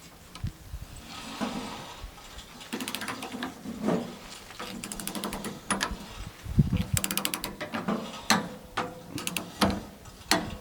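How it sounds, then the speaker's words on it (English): A torque wrench is tightened to 25 pounds on homestead equipment. Soft mechanical ratcheting turns into a rapid series of sharp, close clicks toward the end, with no voices over it. "we torque this 25 pounds, the torque wrench will click"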